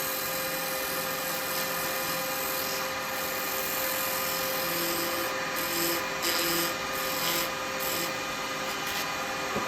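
Continuous rubbing and whirring of a power sander with a soft foam sanding pad on turned wood, steady and close, with a faint rhythmic pulsing under the hum.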